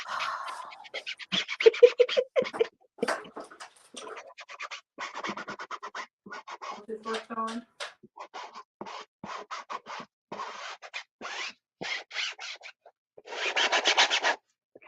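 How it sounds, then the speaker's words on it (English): Someone sands by hand with sandpaper, producing close, loud rasping scratches in short repeated strokes with brief pauses between bursts and no talking. "She's using sandpaper."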